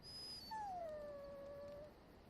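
A dog gives a single drawn-out, high whimpering whine in the video game Dragon Age: Origins. The whine falls in pitch and trails off over about a second against a quiet background, with no talking.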